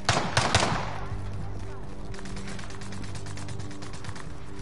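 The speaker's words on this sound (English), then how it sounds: "Oh, they are shooting me in my ass!" Video game gunfire opens with a few loud, sharp bursts of shots, then settles into a fainter, rapid mechanical rattling over a steady background hum.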